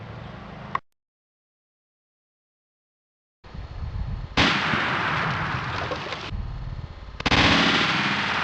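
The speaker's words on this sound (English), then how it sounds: "Test gun for the 12 gauge, the Remington 870." 12 gauge Remington 870 shotgun firing 1 oz copper solid slugs in an ammo test, a sharp blast cut off abruptly, then after silence loud clipped blasts and a sustained harsh roar.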